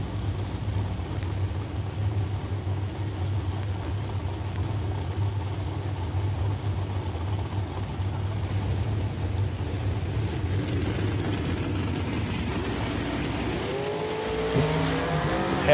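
Drag racing at Woodburn, Oregon as a dragster and an '84 GT350 Mustang sit at the line, engines rumbling steadily, then a rising launch roar with higher engine tones near the end.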